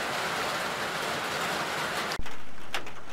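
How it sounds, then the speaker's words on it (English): Rain falls on an outhouse at an A-frame cabin, a steady hiss of drops heard from inside for about two seconds before a sharp clunk cuts it, leaving a quieter patter with faint bird calls. "you can hear that rain"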